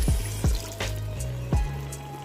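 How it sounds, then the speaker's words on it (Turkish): Water poured into a pot of spinach cooking in olive oil, giving a few soft splashes and drips with a quiet trickle between them, close by, with no talking. "Evet ıspanaklarım suyunu çekip şimdi suyunu da ekliyoruz"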